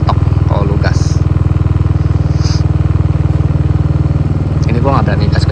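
A motorcycle engine runs close and loud in a residential area, holding a steady idle with only light throttle blips, while a person talks over it.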